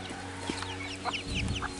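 A remaining broody hen and a few other chickens give soft, intermittent clucks over a steady low background hum, close by but fairly quiet.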